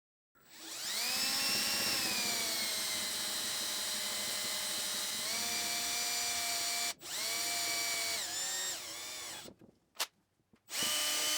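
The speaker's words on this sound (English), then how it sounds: "I'm using screws here to attach the backrest at the right angle." Power drill driving screws to attach the backrest of a mid-century modern chair built from scrap timber, a loud sustained whine with pitch dips as each screw seats, then short stop-start bursts.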